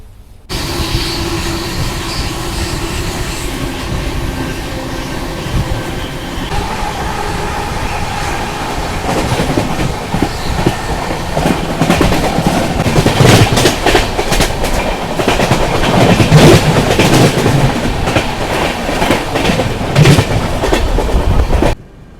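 Central Railway Rajdhani Express 22222 running near Igatpuri station, as heard inside a 3rd AC coach: a steady loud rumble with rhythmic clickety-clack over the rails that builds in the second half.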